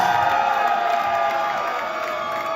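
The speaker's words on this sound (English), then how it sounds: "Let's give him a nice big round of applause" A crowd at a live band's final performance in Belvidere, New Jersey applauds and cheers an accordion player, a dense continuous wash of clapping and whoops at fairly close range.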